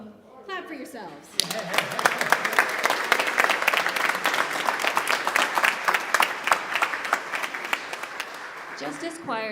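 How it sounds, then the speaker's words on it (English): Audience applause at a Justice Choir community concert on voting, a sustained burst of many hands clapping that starts suddenly after some talk and runs on steadily at moderate loudness before tapering. "clap for yourselves."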